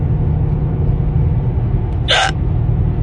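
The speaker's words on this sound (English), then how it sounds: "I felt a hiccup coming" A single sharp hiccup from a person bursts out against a steady loud background hum, brief and close.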